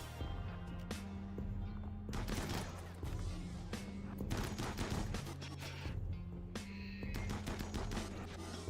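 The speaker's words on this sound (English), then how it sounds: "that pieman actually getting some shots in" Bursts of gunfire in the video game RimWorld rattle out in rapid volleys, dense crackling shots repeating over a steady low musical drone.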